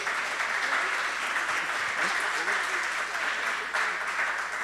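Loud, sustained applause from a church congregation during a service, a thick continuous roar of clapping hands filling the space with no clear pauses.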